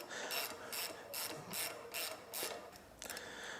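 A ratchet wrench loosens a nut while a semi-auto rifle is cleaned over a rag; about seven quick, close bursts of ratcheting clicks come in a steady rhythm with no talking.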